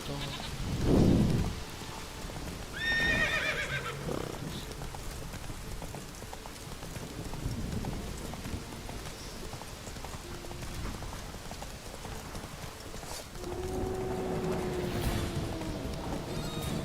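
Roach, a horse in The Witcher 3 video game, gives a short neigh early on, then hooves clop along in a loose trotting rhythm beneath a busy outdoor ambience, with another whinny-like call near the end.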